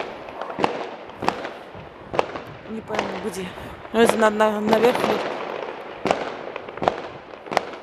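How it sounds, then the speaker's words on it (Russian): Fireworks bang outdoors at irregular intervals, sharp cracks echoing from a distance, while two people talk over them. "Это, похоже, уже салют."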